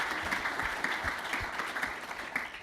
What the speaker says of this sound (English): Please applaud Marek.